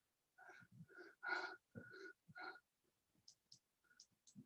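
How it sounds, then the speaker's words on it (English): Someone snores during an online neurosurgery panel: a few close, raspy, wheezing breaths come in a rough rhythm, then fade to faint, scattered breathing noises with no talking. "I think I can hear someone snoring."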